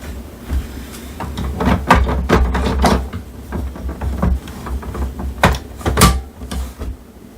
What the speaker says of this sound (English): Load in the new ink cartridge as shown. Push it in and push it up.